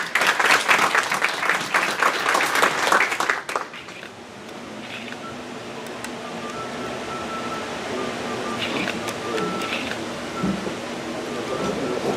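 Hearty applause from an audience at a university ceremony for a criminal studies workshop at UNMSM, loud and close for about three seconds, then fading into a quiet room.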